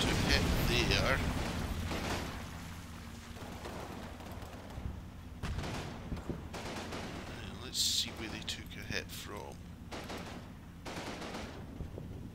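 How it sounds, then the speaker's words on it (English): Gunfire and rumbling artillery explosions from the World War II strategy game Combat Mission Battle for Normandy, a dense, continuous barrage of bursts and booms with a voice speaking over parts of it. "they have artillery coming in my deployment area."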